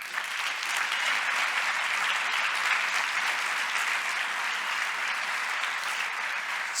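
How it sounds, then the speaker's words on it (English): Sustained, dense applause from a conference audience at a closing ceremony, steady and full throughout with no voices over it. "would you join me in a massive round of applause for both Andrea and Mike"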